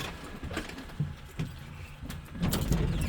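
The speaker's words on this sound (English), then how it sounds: "shutting the bus off, taking the key with me," Keys jingle and clink in short bursts as the key is taken from a shut-off school bus during an air brake test, with a louder metallic rattle near the end over a low engine-like rumble.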